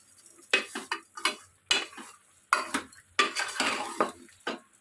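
Spoon or ladle stirring salted mutton sambar in a metal pan, a series of close, distinct scraping and clinking strokes in an irregular rhythm with a faint sizzle beneath, no talk.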